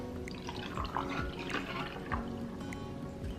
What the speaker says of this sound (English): pour your drink directly over the ice.